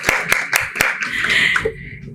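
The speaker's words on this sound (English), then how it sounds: "Let's clap for the boy." Audience clapping for a boy at a book review event, several sharp claps in the first second, then fading under ongoing talk.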